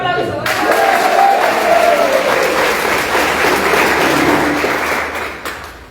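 Applause from a gathered audience at an animation meeting, dense steady clapping that swells in and holds loud for several seconds before tapering off.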